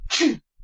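A single sharp human sneeze, close and loud, with a brief breathy intake before it and a short silence after.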